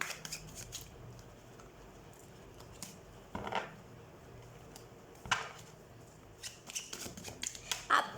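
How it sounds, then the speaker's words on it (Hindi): A deck of tarot cards is shuffled quietly and close by, giving soft riffling and sliding flutters with a few sharper snaps toward the end. "सबसे पहले हम कार्ड शफल कर लेते हैं"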